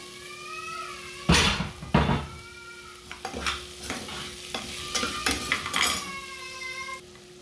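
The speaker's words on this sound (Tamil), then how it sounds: "இந்த உருளைக்கிழங்கு கேரட்டு பீன்ஸ் இது மூணுமே இதில் ஆட் பண்ணிவிட்டு நல்லா வதக்கணும்" Potatoes, carrots and beans sautéing in a pan while a utensil stirs and scrapes, giving irregular clanks and scrapes over a soft sizzle, close and moderately loud, with no talking.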